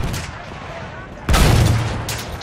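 Gunfire in the video game Battlefield 1: a sudden loud burst of shots and booms erupts partway through, following quieter distant battle noise, with faint talking underneath.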